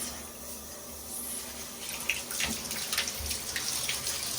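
Water from a tap runs steadily while an aquarium filter is rinsed under it, a soft continuous splashing that grows a little louder and more agitated partway through, with light handling bumps.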